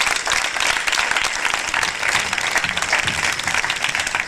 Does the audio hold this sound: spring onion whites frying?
no